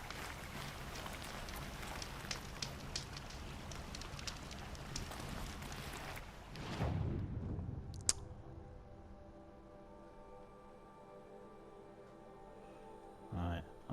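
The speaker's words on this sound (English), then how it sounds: "The rain's letting up." Steady rain falls in the Horizon Zero Dawn game world, a broad hiss that fills the first six seconds, then swells briefly and fades to a quieter backdrop with occasional thuds as the downpour eases.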